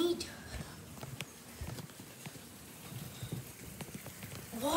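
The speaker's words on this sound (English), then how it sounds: "Watching the rain," Light rain falls during a power outage, a soft continuous patter with scattered sharper drips and taps. Faint voices and other quiet household sounds occur now and then above it.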